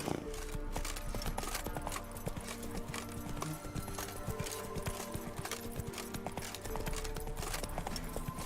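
Hooves of the horse Roach clip-clop in steady rhythm in The Witcher 3, close and continuous over a quiet game backdrop with occasional tonal effects.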